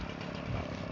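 Chainsaw warming up before cutting firewood runs at a steady idle, a dense buzzing engine drone heard close and continuous throughout the brief moment.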